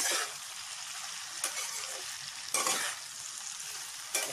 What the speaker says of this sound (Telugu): మీడియం ఫ్లేమ్లో పెట్టుకొని వేయించుకుంటే కొంచెం మగ్గుతుంది